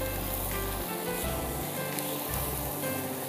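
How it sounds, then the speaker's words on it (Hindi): Chicken frying in a pan with spices and yogurt: a steady close sizzle and crackle runs throughout over a low pulsing hum, with no one speaking. "मसालों के साथ चिकन भूनना बहुत ज़रूरी है।"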